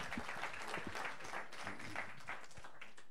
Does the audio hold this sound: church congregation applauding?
yes